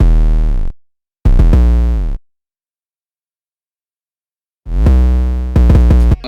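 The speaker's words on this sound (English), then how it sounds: "So this 808 pattern sounds like this." Deep 808 bass notes from a Run It Up 808 in FL Studio, boosted and EQ'd, three heavy booming hits with gliding slide notes separated by silent gaps, loud and alone.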